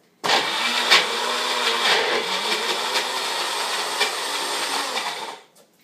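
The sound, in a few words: blender blending mole with dates and nuts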